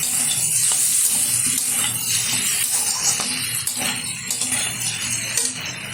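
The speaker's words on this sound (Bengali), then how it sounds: "দিয়ে দিচ্ছি এখন এখানে গাজর টুকরো করে রাখা। আবারও একটু নেড়ে চেড়ে নেব।" Chopped carrot pieces are stirred into chicken stew frying in a pan, giving a steady bright sizzle with faint scraping under it, close and fairly loud without pause.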